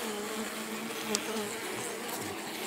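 Honey bees hum in a steady, continuous drone around an open beehive frame, close and moderately loud, with no voices.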